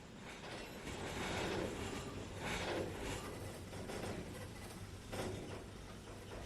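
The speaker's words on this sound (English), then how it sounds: "It's just a train." Trainz 2019 video game train running on the TideWater route, a continuous low rumble of wheels on rails with faint rhythmic clacks and some squealing, steady and fairly quiet.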